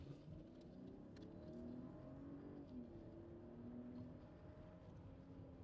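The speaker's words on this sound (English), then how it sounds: "Very, very solid acceleration, very nice ride." A 2025 Mercedes-Benz GLS 450 accelerating in sport mode, heard from inside the cabin as a low, muffled engine hum with a steadily rising pitch under faint road noise, quiet and continuous.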